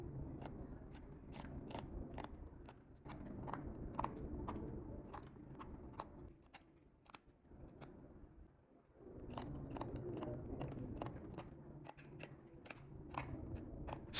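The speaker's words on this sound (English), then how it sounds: "We move to chipping with the pliers." Pliers chipping the edge of a Zeiss progressive lens during manual fitting, heard as a long run of sharp, crisp snaps and clicks, close and fairly faint, some coming in quick clusters, with a low background hum and no talking.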